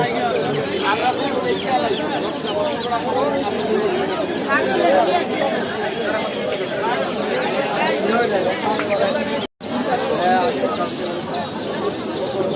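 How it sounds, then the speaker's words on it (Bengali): A packed Saturday crowd at the Putia bazaar in Shibpur, Narsingdi, fills the air with dense, continuous babble. Poultry calls mix in, and the sound drops out for a moment partway through. "অনেক নয়েজ, আমার কথা বুঝতে সমস্যা হবে।"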